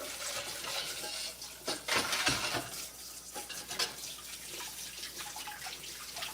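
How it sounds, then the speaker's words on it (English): Hands being rinsed under a running kitchen sink tap, water splashing and dripping unevenly with a brief louder gush and rubbing in the middle, close and steady throughout. "Another little wash of the hands"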